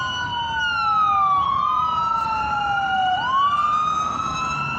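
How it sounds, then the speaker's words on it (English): Fire rescue sirens wail continuously, rising and falling in overlapping tones, loud and fairly close, with a steady traffic rumble underneath. "You can fucking hear the sirens behind me."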